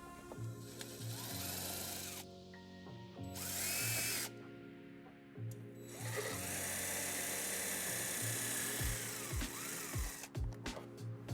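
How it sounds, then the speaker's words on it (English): Power drill boring two holes into a metal ledge above the tailpipe of a 2005 Hyundai Tucson, with bursts of whining motor starting and stopping, pauses between runs and a few sharp clicks near the end. "We're going to drill 2 holes so we can put a zip tie there and secure the wire."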